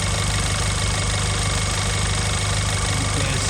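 An Audi A1 1.4 TFSI with the CAXA petrol engine idles steadily and smoothly, a close, constant hum with low rhythmic pulsing and no voices.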